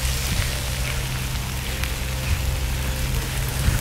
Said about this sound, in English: it's freaking raining this morning